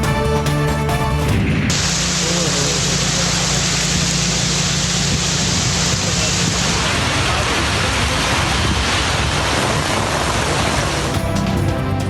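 A rain and wind storm in Lahore, a loud, unbroken roar of heavy rain and gusts that dominates from start to finish, with no clear speech above it.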